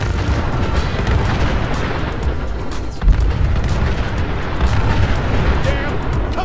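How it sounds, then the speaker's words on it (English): A nuclear explosion in the Fallout 4 video game sets off a loud, sustained, rolling roar and rumble that swells midway, with a voice faintly present. "Looks like the gunners took the bait. They're firing! Nukes inbound!"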